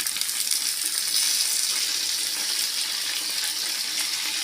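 Mint and coriander leaves for mutton biryani sautéing in a pan, a steady close hiss and sizzle that runs the whole time with no talking.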